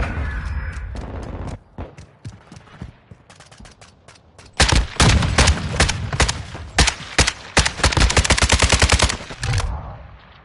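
Rapid video game gunfire, loud and close: a few scattered shots at first, then dense bursts of automatic fire that rattle on for several seconds before cutting off.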